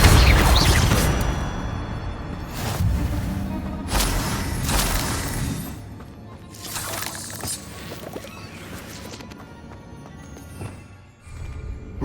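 Repeated Incendio fire spell casts in Hogwarts Legacy: a loud opening whoosh of flame, then several separate bursts and crackles that fade between casts, with quieter game ambience and no talk.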